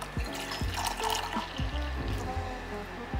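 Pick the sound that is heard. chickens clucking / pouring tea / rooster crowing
pouring tea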